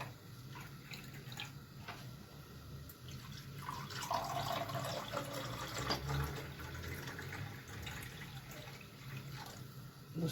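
Milk poured and whisked into foam for homemade yogurt, a soft continuous liquid splashing and bubbling close by, fairly faint and steady with small drips and clinks.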